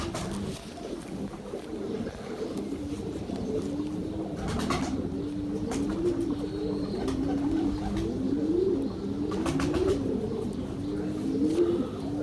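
Ferozpuri Saleti pigeons coo in soft, repeated throaty phrases over steady background noise, with a few faint clicks and rustles.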